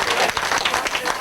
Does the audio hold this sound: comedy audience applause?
yes